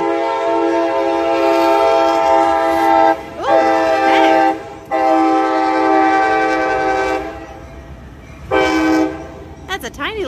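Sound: train passing and sounding its horn

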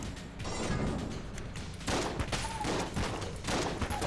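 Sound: enemy gunfire in the video game Enter the Gungeon

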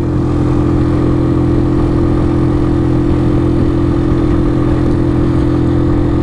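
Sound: Superlight 125 motorcycle engine running in third gear

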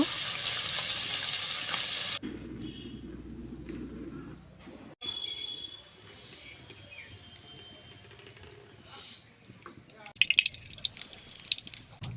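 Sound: fish frying in pan

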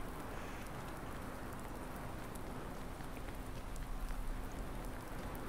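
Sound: rain in the video game Farming Simulator 19

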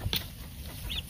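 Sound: chickens, roosters clucking

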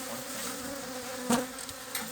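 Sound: honey bees flying past

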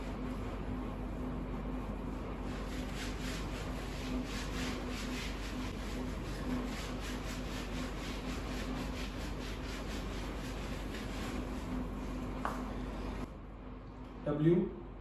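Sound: erasing a board by rubbing it

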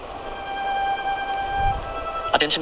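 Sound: outside traffic, vehicles moving and horns

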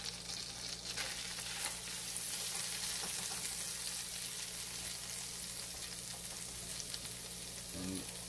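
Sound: butter sizzling in a pan for a wild mushroom omelette

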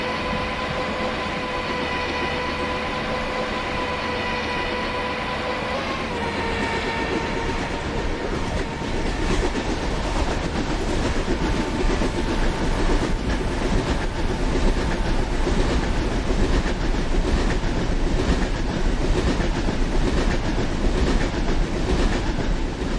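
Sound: Sayaji Nagari Express train running at speed

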